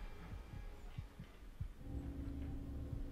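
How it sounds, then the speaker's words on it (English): A quiet, muffled heartbeat thuds in Resident Evil 7, with soft low beats pulsing at irregular intervals under a dim ambient hum that steadies and thickens toward the end. "You can hear her heartbeat."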